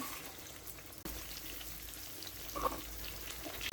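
Chopped onions, about a cup, frying in a cup of white oil for a chicken malai curry; a steady broadband sizzle with a sharp jump partway through, no voice.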